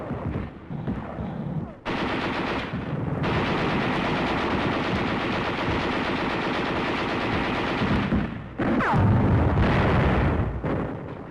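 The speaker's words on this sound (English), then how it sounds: "There is some machine gun fire and occasional shells," Sustained machine gun fire with occasional shell bursts in a wartime combat newsreel, loud and dense bursts running almost continuously with brief pauses.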